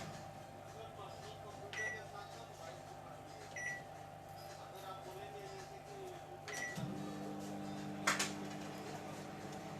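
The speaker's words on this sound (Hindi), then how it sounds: "अब इसको हम 2 मिनट के लिए और माइक्रोवेव करेंगे।" A Samsung smart oven in microwave mode hums steadily while heating vegetable rice, a faint continuous drone with a few soft clicks and a beep-like tone near the end.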